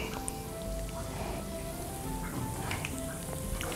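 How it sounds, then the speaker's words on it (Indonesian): Risol frying in hot oil gives a steady, crackling sizzle like light rain, with tiny pops scattered throughout, close and continuous with no talking. "Kita goreng ini sampai kuning kecoklatan"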